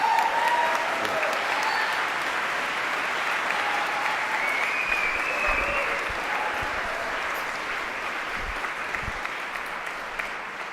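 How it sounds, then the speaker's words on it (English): Sustained applause from a crowd gathered at an MLK Day immigrant rights rally and press conference, a steady dense wash of clapping that carries through the whole stretch at an even, fairly loud level. "Let's hear a rousing applause for both of them"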